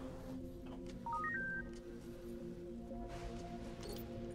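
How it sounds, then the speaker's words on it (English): A phone in Halo 3 ODST sounds off as a quick rising series of short electronic beeps, faint beneath a low steady game ambience, followed by soft scattered clicks. "Where'd that phone go?"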